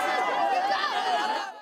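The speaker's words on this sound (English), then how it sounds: "What began as an excited crowd soon turned into an unruly mob." Dense crowd chatter from football fans massed outside Changlimithang Stadium in Bhutan awaiting a trophy viewing, a steady loud babble of many overlapping voices with no single speaker standing out.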